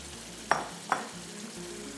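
Taro root pieces are dropped into a fried-down gravy where the oil has separated, bringing a steady close sizzle and two quick clunks of pieces landing or a spoon striking the pan.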